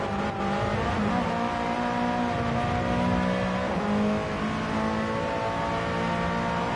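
Onboard a Jamco TCR Cup race car at the Sardegna circuit, the engine drones loudly and steadily down the straight, its pitch rising through the gears with a brief shift dip midway.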